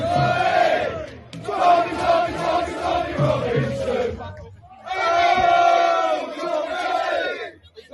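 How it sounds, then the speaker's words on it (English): Large protest crowd chanting in support of Tommy Robinson, loud massed voices in rhythmic waves with a brief lull before the chant swells again, close and continuous. "At points, those crowds were chanting for Tommy Robinson."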